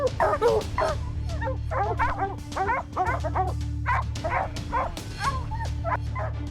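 Hunting dogs bark and yip in quick, repeated bursts, fairly close and loud, over a steady low rumbling background.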